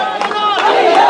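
A crowd of students and teachers at an anniversary rally for a madrasa in Dhaka chants slogans together, loud and close, with rhythmic shouted bursts through a short stretch.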